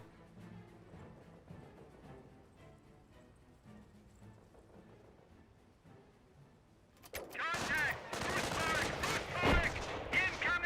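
Artillery fire and big explosions in the video game Company of Heroes, starting with quieter battlefield rumble before a sudden burst of loud, crackling blasts and rapid gunfire fills the second half.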